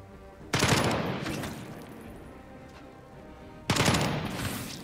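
Automatic gunfire in the tactical game Jagged Alliance 3: two loud, sustained bursts of rapid shots, each trailing off with a reverberant tail, heard close and alone.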